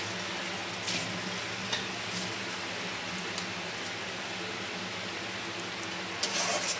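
Masala paste with coconut milk and yogurt frying in a pan for Bengali prawn malai curry, a steady soft sizzle with occasional small pops and stirring scrapes, fairly quiet and continuous.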